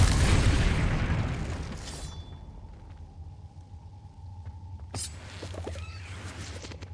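A Confringo blasting spell in Hogwarts Legacy on PS5 erupts in a loud booming explosion with a rumbling tail, followed by a sustained tone and a second sharp magical burst around the five-second mark.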